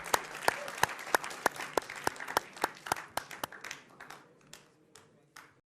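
Studio audience at a televised Hindi debate show clapping to welcome two guests, a crisp burst of applause with distinct sharp claps that thins out and fades over several seconds.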